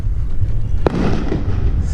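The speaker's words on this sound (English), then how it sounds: "I believe those loud bangs are fireworks and not gunshots or bombs" Fireworks go off in a town in Nicaragua. One sharp, loud bang cracks out over a steady roadside rumble, then fades back into the background noise.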